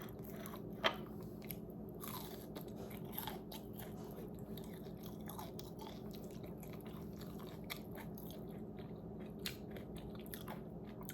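Someone bites into breadcrumb-coated patola (sponge gourd), giving soft crunches and chewing, faint and close, with no talk.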